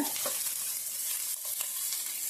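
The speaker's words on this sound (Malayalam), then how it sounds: "നമ്മളൊന്ന് ഒരു ചെറിയ ബ്രൗൺ കളറാകുന്നവരെ വരെ ഒന്ന് ഇളക്കിക്കൊണ്ടിരിക്കുക" Small shallots fry in a pan for an onion chutney, giving a steady broadband sizzle with a few soft scraping stirs, close and even, with no voices.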